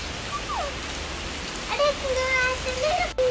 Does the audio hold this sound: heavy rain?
yes